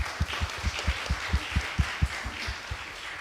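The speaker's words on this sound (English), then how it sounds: "So maybe another round of applause for that," A small forum audience claps in a brief, fairly sparse round, individual claps distinct and rhythmic for a few seconds at a moderate distance.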